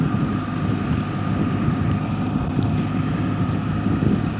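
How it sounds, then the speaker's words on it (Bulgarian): Wind gusting steadily into the microphone beside a BMW R1300GS Adventure motorcycle, a continuous loud rumbling buffet with no pauses. "Има малко вятър, може би го чувате"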